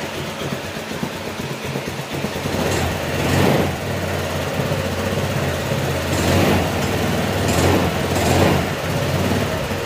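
A Honda Click 150 scooter engine runs on a workbench after being taken down for repair, idling with a steady buzzing note and a few brief revs swelling up.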